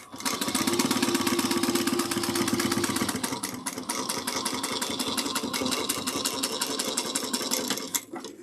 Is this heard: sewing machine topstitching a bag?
yes